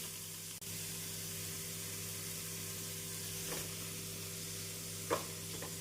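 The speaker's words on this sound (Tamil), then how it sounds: "எண்ணெய் சூடானதும் பொடியாக நறுக்கிய வெங்காயம், பூண்டு, பச்சை மிளகாய் சேர்த்து விடலாம்." Chopped onion, garlic and green chili sizzle steadily in hot oil, a soft constant hiss with a few light stirring scrapes, close and fairly quiet.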